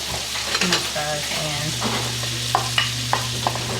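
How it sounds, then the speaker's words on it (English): Onions sautéing in melted butter in a pan, giving a steady sizzle with light clinks and stirring scrapes, while a voice talks briefly at first. "All right, we're gonna saute these."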